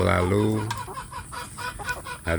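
Village chickens cluck in short repeated bursts while being fed, fairly close and loud, with a harsh harmonic call at the start.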